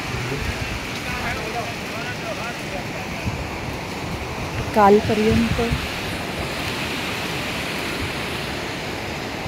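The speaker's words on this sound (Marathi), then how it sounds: "वरून नैसर्गिक धबधब्यांचं पाणी येत असते." Natural waterfall water pouring down beside a wet mountain trail to Yamunotri, a steady broadband rush filling the background throughout, with a person speaking briefly over it near the middle.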